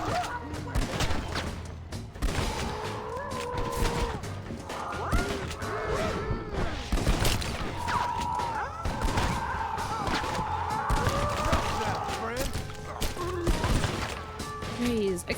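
Repeated gunshots and sharp cracks from Red Dead Redemption: Undead Nightmare, a zombie-infested Western game, scattered irregularly through the stretch, mixed with shouting, animal-like squawks and game noise, while someone talks intermittently.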